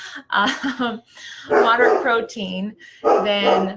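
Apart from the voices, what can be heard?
pet dog barking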